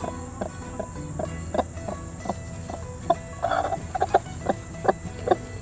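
A broody hen sitting in her nest gives short, repeated clucks in an irregular rhythm, close by, over a steady background of insects chirping.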